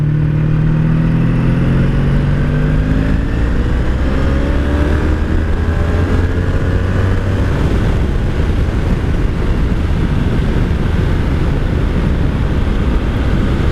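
A 1984 Honda V65 Sabre VF1100S motorcycle roars close and loud while riding, its engine pitch rising and falling as the throttle opens, with rushing wind noise building over the steady drone.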